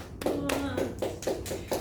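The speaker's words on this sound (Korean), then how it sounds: "박수" Several distinct handclaps in quick succession during a nursing lecture, sharp and close, spaced unevenly at moderate volume.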